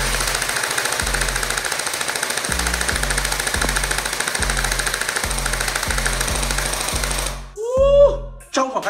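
Rapid bursts from an MP5K-style Sijun gel blaster with blowback action, test-fired at a target about 4 m away; a steady mechanical rattle of quick repeated cycling runs for about seven seconds before stopping, followed by a few sharp short clicks.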